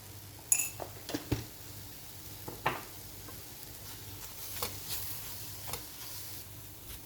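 Carrots with a spoonful of cinnamon get stirred in a pan for cookies, a quiet scene of a few sharp clinks and taps of a utensil against metal over a faint sizzle, with no voices.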